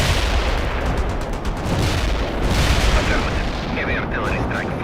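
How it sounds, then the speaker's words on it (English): A heavy artillery strike lands in the World in Conflict video game, loud continuous rumbling blasts and booms that stay dense throughout, with faint game radio chatter toward the end. "Heavy artillery strike"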